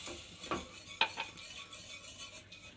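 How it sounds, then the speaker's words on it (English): Milk being stirred into roasted flour for a vegetarian lasagna sauce, faint close scraping of a utensil in a pan with a few soft clinks early on, no talking. "mix these around nice and slowly until the sauce becomes thick"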